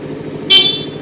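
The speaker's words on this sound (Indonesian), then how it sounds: "klakson." A short single beep from the horn of a 2014 Kawasaki Ninja Special Edition sport motorcycle, sounding briefly and close over a faint idling background.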